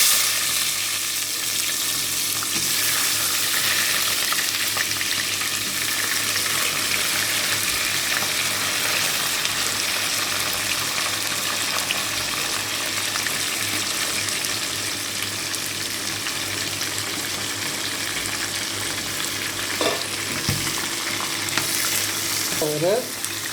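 Steady sizzling of onions frying with green chillies in a pan for mutton biryani, with occasional scraping and stirring sounds, loud and continuous throughout.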